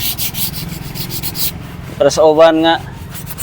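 Sandpaper rubs over wood in quick repeated strokes, close and loud, and a voice speaks briefly partway through.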